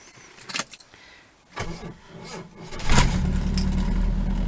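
A Rover P6 engine cranks in a few short, labouring bursts on a weak battery, then catches and settles into a loud, steady idle close by.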